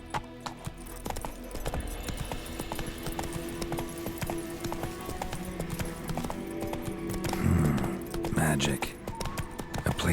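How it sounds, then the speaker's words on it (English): In The Witcher 3 a horse gallops in a steady clip-clop of hooves with a whinny toward the end, set under game music and ambient sound, with a voice speaking over it. "Run, Roach"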